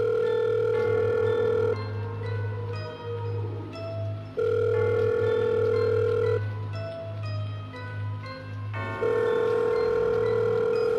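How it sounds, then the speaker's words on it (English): A mobile phone ringing steadily on the line, with several repeated ring tones in a regular on-off pattern, loud and close, with no talking. "The phone rang several times."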